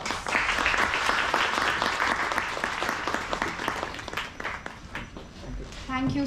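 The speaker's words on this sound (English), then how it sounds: "A big round of applause." Conference audience applauding after a speaker receives a memento, dense clapping from many hands, fairly loud and steady, fading slightly toward the end.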